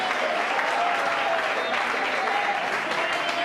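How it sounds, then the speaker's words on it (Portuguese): A church congregation at a youth congress claps steadily and enthusiastically, dense continuous applause filling the space at a loud, even level with no pauses. "glorificando a Deus com as palmas bem alegres"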